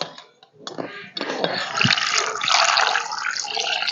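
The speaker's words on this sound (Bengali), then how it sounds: "ঠান্ডা জল দিয়ে দিলাম" Cold water poured over freshly boiled eggs in a pot, beginning with a few light splashes and then turning into a steady, loud rush of running water close by.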